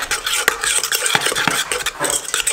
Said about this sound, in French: On va bien mélanger tout de suite pour pas faire cuire